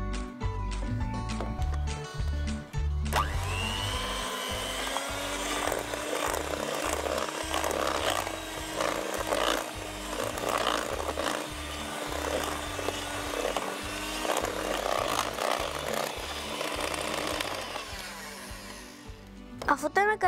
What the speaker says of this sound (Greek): Και τώρα θα πάρουμε το μίξεράκι, το μίξερ χυρός